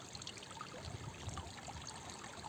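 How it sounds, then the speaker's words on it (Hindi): Water seeps out and trickles through small shallow streams among tree roots in the dry backwaters of Supa Dam, Dandeli, a faint, steady babbling with light irregular drips close by. "पानी सीपेज करके इन छोटी छोटी स्ट्रीम्स में आता है"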